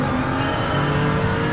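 Car engine in a racing video game with a turbo whine, a steady high tone riding over continuous engine drone, loud and close throughout.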